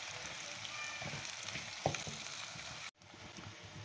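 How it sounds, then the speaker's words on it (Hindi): Onions browning in hot oil in a pan for biryani, a loud, continuous close sizzle with a brief stir, cut by a sudden short drop before the frying continues. "ये देखिए मैंने प्याज को ब्राउन कर रही हूँ"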